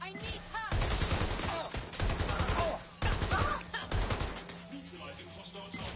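Bursts of rapid automatic gunfire in the Watch Dogs Legion video game, loud and close, broken by short pauses, with voices shouting over the shooting.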